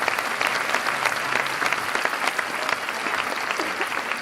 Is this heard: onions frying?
no